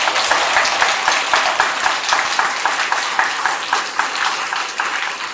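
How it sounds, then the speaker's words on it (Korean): Audience at a local mayoral candidates' policy debate on disability welfare gives steady, even applause, a moderately loud wash of many hands clapping together with little talk. "자, 우리 박수 한번 보내주시죠."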